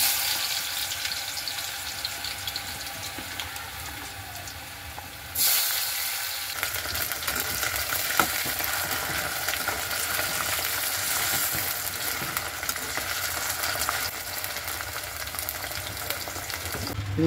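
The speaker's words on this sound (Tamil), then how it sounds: "எண்ணெய் ஊற்றின பிறகு எண்ணெய் சூடாகிட்டு கொஞ்சம் உருளைக்கிழங்க பொரிச்சு எடுத்துக்கிடணும்." Potato pieces frying in hot oil for a pea kurma, with a steady loud sizzle throughout that grows sharply stronger partway through, as though more potato were dropped in or stirred, and no talking.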